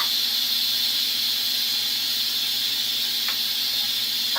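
Steam hisses out of an Instant Pot's pressure release during cooking, a loud, continuous, unbroken hiss that holds steady throughout, with a brief faint squeak near the end.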